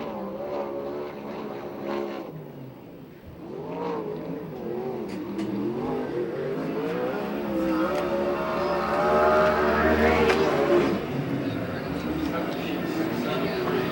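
A USAC/CRA sprint car on a qualifying lap at Perris, California, its engine droning and swelling under continuous announcer commentary, the revving rising louder toward the latter half before easing slightly.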